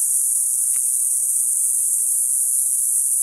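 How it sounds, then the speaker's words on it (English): Cicadas after a monsoon flood: a loud, unbroken high-pitched electric drone holds steady throughout, with one brief faint click early on. "I forget the name of them bugs that are making that noise. Cicada bugs or something like that."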